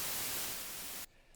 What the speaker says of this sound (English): This is what white noise is.